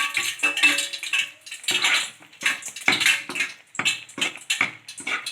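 A spoon scraping and clinking against a metal pan while Mysore pak batter is stirred and oil is poured in, giving repeated close, fairly loud metallic scrapes and taps in an irregular rhythm, with no talk.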